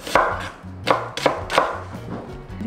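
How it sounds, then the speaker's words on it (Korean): A knife slicing green onion on a cutting board, several crisp, evenly spaced chops close up, each a sharp thud with a brief crunch, nothing else heard. "그리고 대파 1대. 같은 방법으로 썰어줄게요."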